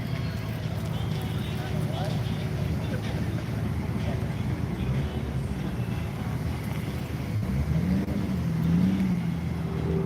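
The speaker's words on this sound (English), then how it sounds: "Corvette is pulling out over there." A Corvette pulls out and drives off at an overcast Daytona flea market car show, its engine a low rumble that rises briefly near the end amid wind and outdoor crowd noise, with voices talking in the background.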